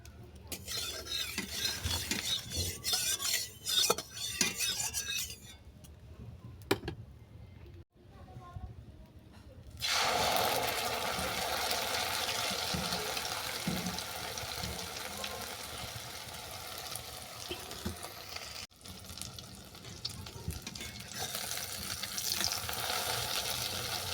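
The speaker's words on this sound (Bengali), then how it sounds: "কড়াতে তেল গরম করে অমলেটগুলো আমি এক এক করে ভেজে নেব।" Bottle gourd omelettes fry in hot oil in a wok: clattering and stirring come first, then a loud, steady, close sizzle takes over, with a voice speaking now and then.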